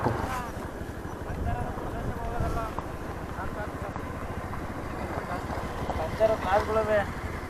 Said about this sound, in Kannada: ಇನ್ನು ಯಾವ ರೇಂಜ್ ಗಾಳಿ ಬೀಸುವುದಯ್ಯ ಈ ಕಡೆ